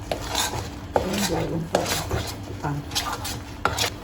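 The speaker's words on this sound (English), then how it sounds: "This one is take time to fry until the oil come out." Malay rempah spice paste frying in oil in a pan on medium heat, a spatula scraping and clinking against the metal in a steady stirring rhythm over a soft sizzle, with a brief spoken word.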